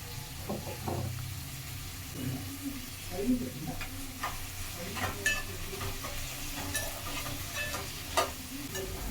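Tomatoes, carrot pieces and crushed garlic frying in a pan, a low sizzle punctuated by irregular clinks and scrapes of a spatula stirring, moderately quiet with no talk.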